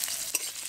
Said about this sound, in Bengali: পেঁয়াজটাকে এখন হালকা বাদামি করে ভেজে নেব